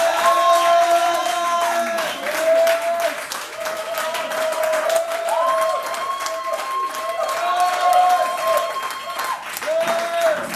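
Church congregation applauding and acclaiming Jesus Christ at a prophetic preaching service, sustained clapping and crowd noise under singing or chanting voices, loud and continuous throughout.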